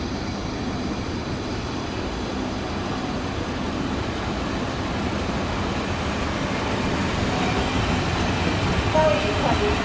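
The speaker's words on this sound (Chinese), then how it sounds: "一月台即将进站的是16:56开往7堵5164莒光号班次列车" An E208 electric locomotive hauling a Chu-Kuang express rolls into Hsinchu station, a steady low rumble slowly growing louder, heard beneath a station announcement.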